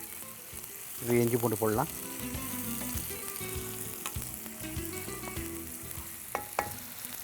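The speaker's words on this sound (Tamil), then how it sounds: "இந்த பட்டை, சோம்பு, பிரிஞ்சி இலை நல்லா பொரிஞ்சு வந்துட்டுருக்கு" Cinnamon, fennel seeds, bay leaf and onions fry in a pan, a soft continuous sizzle with occasional stirring clinks, while a person speaks briefly over it.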